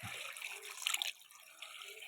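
Water poured over taro pieces with turmeric and salt in a pressure cooker, a soft steady splashing stream that swells briefly midway, then settles to a lighter trickle, close and alone.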